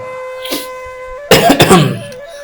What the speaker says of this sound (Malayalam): ചുമയ്ക്ക് ഒരു കുറവില്ല